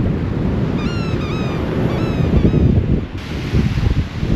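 Andaman Sea surf rolls onto the sand at Kuk Beach in Thailand, a steady close wash of waves mixed with wind buffeting, with a few faint bird calls chirping above.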